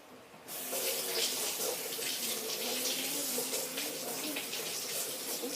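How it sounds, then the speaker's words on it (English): Popsicle molds rinsed under a running kitchen tap, a steady close hiss of flowing water that starts abruptly and continues without pause. "I'm going to wash these off."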